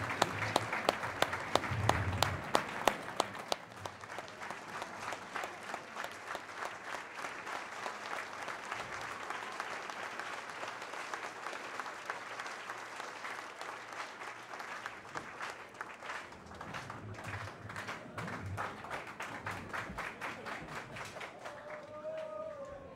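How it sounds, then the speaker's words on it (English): Sustained crowd applause rises at a sports games closing ceremony in honour of the local organizing committee and coaches. Several loud, sharp claps open it, then a dense, even wash of clapping holds for about twenty seconds before thinning at the end. "give a special round of applause to the local organizing committee and your coaches"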